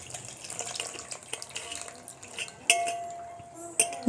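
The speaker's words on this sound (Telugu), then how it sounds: "ఇంకొకసారి కొంచెం వాటర్ వేసి చింతపండు పులుసు వేస్తున్నాను" Water and tamarind juice are poured into a fish curry, with soft trickling and splashing and a few sharp clinks of utensils against the pot.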